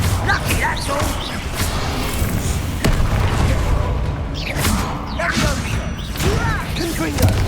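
Confringo fire-spell blasts in the wizarding game Hogwarts Legacy, several heavy booms and whooshing bursts amid combat clatter, with character voices speaking between the impacts.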